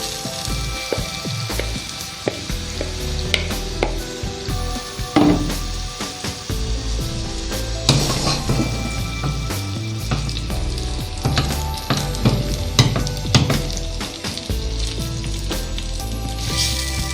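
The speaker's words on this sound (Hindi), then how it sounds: "ये देखें कीमा हमारा तकरीबन भुन चुका है" Half a kilo of minced meat frying in a pan, a dense continuous sizzle close up with frequent scraping and stirring clatters scattered through, no talking.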